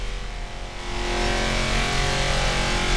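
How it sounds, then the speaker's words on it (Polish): A car engine drones steadily with a harmonic hum, swelling louder after the first second and holding at a strong, continuous level: a Brabus 800 in the racing game Forza Horizon 4. "Dźwięk samochodu jest taki dosyć przeciętny"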